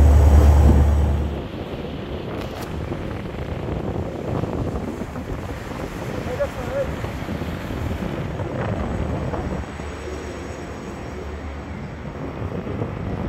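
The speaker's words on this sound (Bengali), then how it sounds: "পিছনে বসে ইঞ্জিনের আওয়াজে কান ধ্যান্দা হয়ে যাওয়ার অবস্থা।" Steady engine drone of a Mayur 7 passenger launch travelling from Dhaka to Chandpur, a loud continuous rumble heard from the rear deck, mixed with wind buffeting the microphone and the wash of river water, with no voices.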